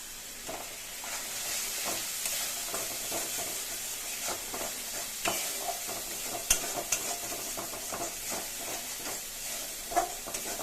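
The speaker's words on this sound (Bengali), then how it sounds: "ভালো করে মশলাটা কষিয়ে নেব।" Spice paste with green chilli and Kashmiri red chilli powder stirred and fried in a pan for a Bengali tangra fish curry, a steady close sizzle broken by scraping stirs and occasional sharper clicks.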